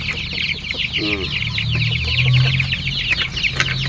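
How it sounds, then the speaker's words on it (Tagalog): A brooder full of newly hatched chicks chirps constantly, a dense chorus of high peeping close by over a low background hum, with a brief louder trill partway through. "Puro mga sisiyo lang yan nang dyan."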